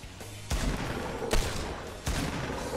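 A gun in the video game Fortnite fires in three loud, sharp bursts spaced about a second apart, each cutting through a steady noisy background with no talk.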